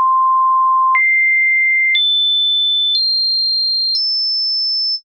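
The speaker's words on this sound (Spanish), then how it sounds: "Tengo por acá un proyecto de prueba con un sintetizador solamente con una onda senoidal." Synthesizer playing pure sine-wave tones, five sustained high notes stepping upward one per second, each clean and loud with no other sound.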